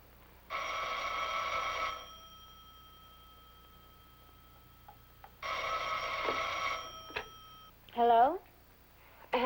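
Old telephone bell ringing in two long loud bursts separated by quiet, followed by a short voice and clicks near the end.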